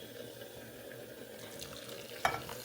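Milk being stirred into grainy semolina halwa in a pan makes soft, wet, faint stirring and bubbling sounds, with a single light clink of the utensil near the end and no talking.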